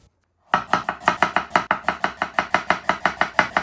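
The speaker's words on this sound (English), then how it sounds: "I peeled it with a spoon and cut it into thin stripes." A knife cuts peeled ginger into thin strips on a cutting board, each stroke a crisp, close tap in an even, quick rhythm after a short silence, with no talking.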